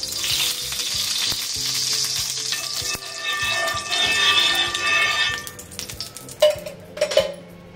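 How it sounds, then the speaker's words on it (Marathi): Cooking oil sizzles and crackles steadily on a hot griddle as pomfret is fried, a dense hiss with small pops and a few utensil clinks near the end, no talking. "आता आपण तेल टाकूया तव्यावर."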